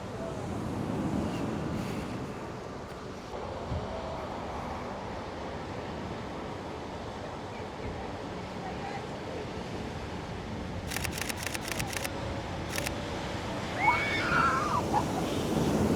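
Large ocean waves crashing on the coast amid strong wind, a continuous loud roar of surf with heavy wind noise on the microphone and occasional camera shutter clicks.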